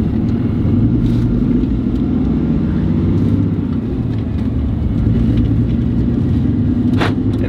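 A RAM 2500 pickup fitted with a semi-style shifter rumbles steadily from inside the cab, its engine droning low with slight shifts in pitch and no speech.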